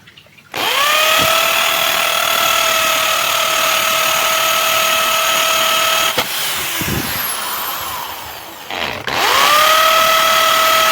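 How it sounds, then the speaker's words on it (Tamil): A power drill bores drain holes into a brick planter, a loud steady whine with a break near six seconds, a short lull, then the drill starting up again at full speed. "இப்போ இதில் இந்த டென்ட்டில் வந்து நம்ம 1 or 2 ஹோல்ஸ் போட்டுக்கலாம் நமக்கு ட்ரைன் ஹோல்ஸ்க்காக"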